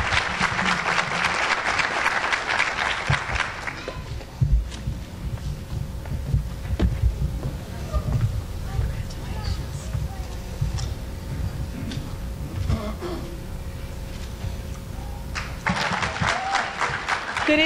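Audience applause at an evening student academic excellence awards ceremony, a dense clatter of many hands clapping that swells at the start, thins to a low murmuring lull with faint scattered claps, then returns loudly near the end.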